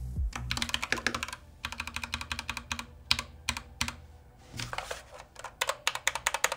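Rapid clacky keystrokes on a mechanical keyboard come in quick bursts with short pauses, close and crisp.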